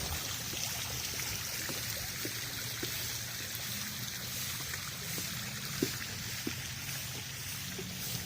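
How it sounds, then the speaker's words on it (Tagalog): Water trickles steadily from a mushroom-shaped fountain at a summer beach resort in Bataan, a soft continuous splashing wash with a few faint clicks, quiet and close. "naririnig nyo ba yung awas ng mga or tulo ng mga tubig dahil yan sa meron silang fountain na mushroom"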